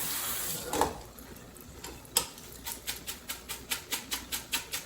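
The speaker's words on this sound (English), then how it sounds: "then I'll just rinse off whatever was in there" Shirataki noodles being rinsed under water at a kitchen sink, an early burst of running water followed by a steady run of evenly spaced splashing pulses, fairly close with no talking.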